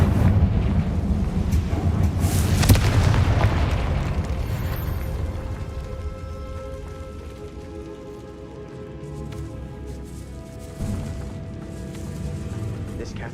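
In Hogwarts Legacy, a loud Confringo blast erupts early with a crackling, roaring burst that decays into rumbling debris. A smaller thump follows later, and a person speaks over the game sounds.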